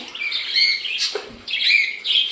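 Yellow-faced budgerigars chirping nearby: bright warbling chatter in two bursts with a short break between, loud and close, with no talk.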